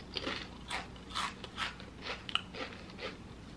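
Crunchy fast food from Trader Joe's being bitten and chewed close to the mic, a series of sharp, rhythmic crunches, about eight of them, with no talking.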